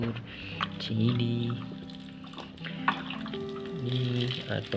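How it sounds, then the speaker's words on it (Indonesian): Water pours and splashes steadily while chili plants in a vegetable garden are watered on a hot day, with a person talking over the flow. "Siram sayur cili"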